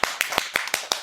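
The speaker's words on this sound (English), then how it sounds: "a round of applause for our guest who performed." A round of applause for a guest performer at an International Women's Day commemoration event, heard as a series of sharp, evenly spaced claps about every fifth of a second, fairly close and moderately loud, with no talking.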